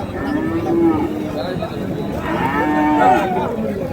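A cow lowing at a Chattogram cattle market among Qurbani bulls gives two drawn-out, tonal moos, the second rising louder, close by over a low crowd murmur.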